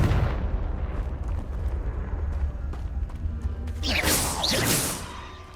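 Confringo fire spell blasts in Hogwarts Legacy, a loud rumbling burst with crackling fiery flare, the second blast building near the end over a steady low roar of game ambience.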